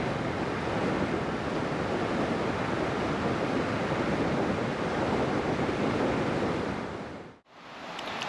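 Steady, loud rushing water of the Svicha River in the Carpathians fills the scene without a break, a broad constant roar like a fast river, with a brief dip near the end.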